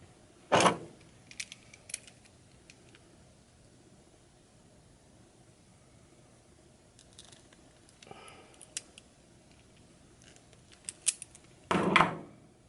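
A crimping tool clamps a doubled-over wire into a connector, giving a sharp mechanical clunk near the start and another near the end, with faint small clicks in between in a quiet room.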